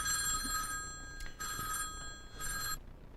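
A telephone bell rings in three bursts with short gaps between them, moderately loud and clear, with no one talking over it.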